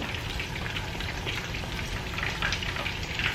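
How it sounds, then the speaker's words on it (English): Butter melting in a hot pan while cooking chicken wings gives a steady, close crackling sizzle throughout, an even hiss with small pops and no voices. "We're going to throw in some butter and let that melt."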